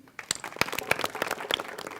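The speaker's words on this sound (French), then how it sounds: "On les applaudit." A crowd at a tea competition final applauds, scattered claps building into steady clapping, moderately loud and somewhat distant.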